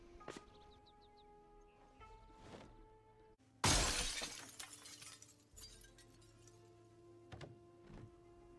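A glass window shatters in a zombie video game, a single loud, sharp crash midway that trails into scattered tinkling shards, with quieter clicks and thumps before and after.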